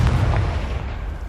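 A Confringo spell explodes in the video game Hogwarts Legacy, a loud, dense blast with heavy low rumble that fills the whole moment without fading.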